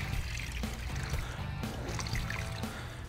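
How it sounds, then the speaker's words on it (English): Water trickling and dripping as a car-drying towel is wrung out, short splashing bursts close by, fairly quiet. "Again, wring the water out"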